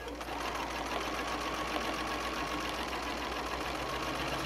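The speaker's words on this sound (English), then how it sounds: "So we're going to come in and we're going to stitch." A sewing machine stitching a quilt for ruler-work feather quilting runs in a steady, continuous mechanical whir with a fast even pulse, close and unbroken from start to finish.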